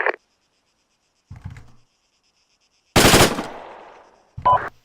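Gunfire at an outdoor personal weapons training range: a sharp shot at the start, another short burst, then a loud rapid string of shots with a decaying echo, and a final report.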